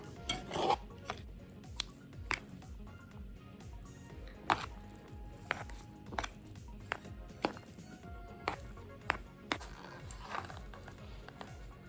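Faint, close scraping and rasping as a big portion of 7-Eleven Japan yakisoba noodles is stirred in its container, with irregular soft clicks and rubs spread across the quiet stretch and no speech.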